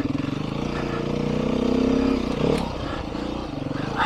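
Beta 390 dirt bike engine humming steadily while riding, a low continuous drone that swells slightly in the middle with some clatter, running under a voice talking.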